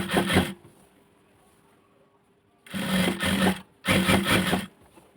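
A sewing machine stitches a skirt in three close, loud bursts of fast whirring, the first short and the last two longer, with a quiet pause between the first and second.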